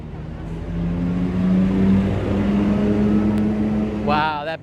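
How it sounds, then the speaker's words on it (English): A bus on a road near Lawson in Kawaguchiko roars past very close to a pedestrian on the curb, a loud sustained engine rumble with a person's voice heard briefly over it near the end. "Wow, that bus is really close."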